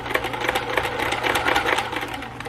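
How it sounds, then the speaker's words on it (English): Sewing machine running a steady, fast reinforcement stitch through a fabric bag for a wheelchair or walker, a continuous close mechanical whir with rapid needle chatter and no talking. "let me do my reinforcement stitch here"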